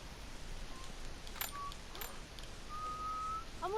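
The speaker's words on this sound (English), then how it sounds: "I'm whistling." A character in The Last of Us Remastered whistles short, clear tunes over quiet game ambience: a brief note, then a longer held whistle and a quick rising run at the end.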